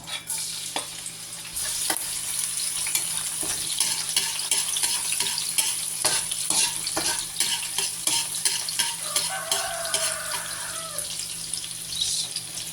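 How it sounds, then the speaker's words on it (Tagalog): Garlic sautés for pork dinuguan, a continuous bright sizzle in a pan with frequent spoon scrapes and taps, close and steady, with a brief running-water sound near the end and no voices. "So mag-gisa na po tayo."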